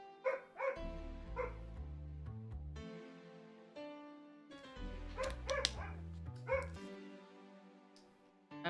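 A pet dog barks repeatedly and whimpers nearby in irregular clusters, with steady game music playing underneath throughout.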